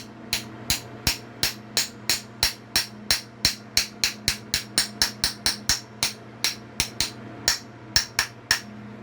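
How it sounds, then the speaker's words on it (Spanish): A hammer taps a bearing into place in a water pump again and again in a quick, steady rhythm, about three sharp ringing strikes per second, close by, with a low hum underneath. "puedes utilizar un martillo como este y hacer esto"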